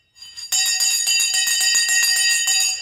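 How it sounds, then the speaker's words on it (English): A loud electric bell rings continuously for over two seconds, a harsh, rapidly rattling clang that starts abruptly and holds steady, with nothing else heard. "The bell has gone."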